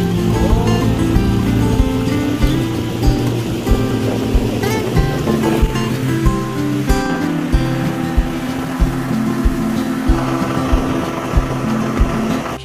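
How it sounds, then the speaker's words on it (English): A speedboat runs across open water toward Kampong Sting near Bengoh Dam in Kuching, Sarawak, with a loud, steady engine drone and rushing wash, plus regular thumps as the hull slaps the waves. "Kampong Sting is about 8-minute speedboat ride away."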